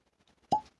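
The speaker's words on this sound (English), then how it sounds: "So let's open this up here. Oh, it's got a cork." A cork is pulled from a bottle of Asbach Uralt German brandy, giving a single short, crisp pop up close after a few faint handling rustles.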